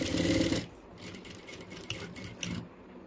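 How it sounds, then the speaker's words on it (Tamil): Sewing machine running a short burst of straight lock stitching, a loud dense whir for about half a second, then quieter intermittent mechanical clicks and taps. "இப்போ பாருங்கள், லாக் போடுறேன்."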